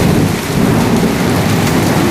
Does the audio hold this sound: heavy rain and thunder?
yes